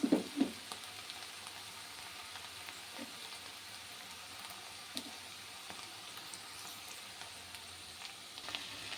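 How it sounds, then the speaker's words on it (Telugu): Okra fries in a pan with chili powder, a steady, quiet sizzle with a few sharper pops and stirring scrapes near the start, with no voices. "కారం వేసుకున్న తర్వాత ఒక 5 minutes వేగనిద్దాం"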